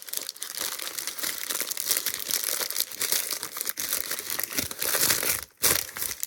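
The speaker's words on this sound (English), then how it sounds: "Only I could pick up a bit of packaging and think there's something in it." Plastic packaging for dolls house items handled close up, continuous crinkling and rustling with short crunchy bursts and a brief pause near the end, no voices.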